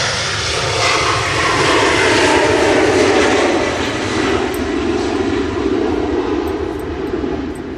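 A KLM Embraer jet takes off from Manchester Airport on a windy day, its engines a loud, sustained roar that builds and then eases slightly as it rolls down the runway, with wind noise mixed in.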